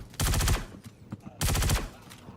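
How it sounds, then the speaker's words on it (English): Two rapid bursts of automatic gunfire in the Star Citizen video game, loud and close, separated by a short pause with scattered lighter shots. "I was going to say it looks clear, and then I heard gunshots"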